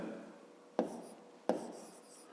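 A pen writes out a fifth-grade geometry solution on paper, a soft close scratching broken by two sharp taps, as of the pen being set down or striking the page.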